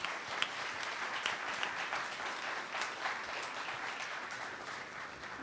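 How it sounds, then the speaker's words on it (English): An audience at a food-waste and composting panel discussion gives the panelists steady, dense applause that holds at an even level throughout, with no voices breaking through. "can we get a round of applause for our panelists?"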